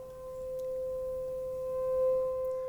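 A steady, pure electronic tone from a Mixture Trautonium holds at one pitch, with faint higher overtones and a quiet hum beneath it.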